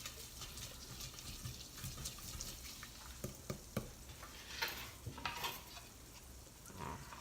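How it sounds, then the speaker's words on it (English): Garlic sautés in a pan for a lemon cream pasta primavera, giving a soft, continuous sizzle with scattered stirring clicks and scrapes. The sound is quiet and close, and there is no speech. "So we'll go ahead and saute the garlic."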